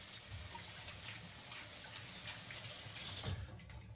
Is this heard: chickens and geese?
no